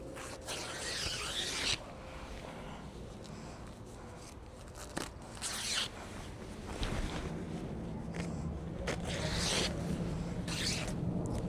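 An old bed sheet being cut in half in a garden, with a few close rasping tearing and snipping bursts separated by quieter gaps over faint outdoor wind.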